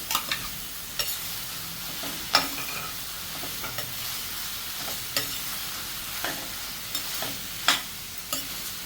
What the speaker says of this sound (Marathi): आता यामध्ये मी कोहळ्याचे तुकडे घालते